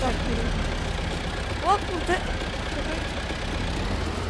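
Tractor engine idling in Farming Simulator 22, a steady low rumble held throughout under brief speech.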